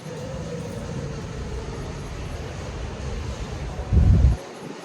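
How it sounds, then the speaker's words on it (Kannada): Steady wind rushes against the microphone, a constant broad roar with a brief louder low gust near the end. "ತಂಪಾದ ಗಾಳಿ ಬೀಸ್ತಾ ಇದೆ"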